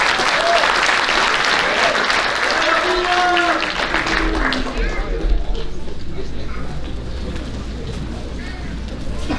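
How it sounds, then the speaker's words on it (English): An audience at a high school athletic banquet applauds a baseball team, dense clapping that fades gradually, with a few voices and tones audible near the start. "Let's give this baseball team one more round of applause."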